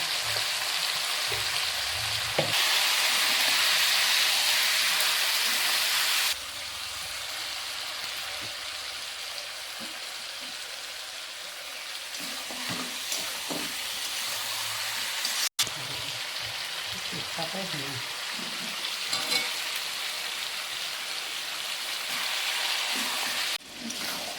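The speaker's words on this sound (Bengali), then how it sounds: "মাংসটা কষাচ্ছি।" Chicken pieces sizzle steadily in a pan with cumin, turmeric, chilli powder and salt, a continuous frying hiss with intermittent scraping and stirring clatter of a spatula throughout.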